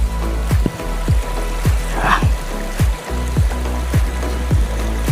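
River water flows steadily and loudly around people wading across on foot in a forested area, with a constant rushing wash and rhythmic sloshing pulses.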